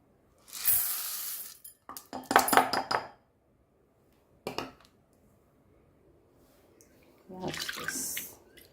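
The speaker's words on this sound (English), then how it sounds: "Wash at least 3 times in this water." Grains for Goan doce de grao are washed in a pot of water, with bursts of sloshing and swirling and light clinks of the pot, separated by brief pauses, close and moderately loud.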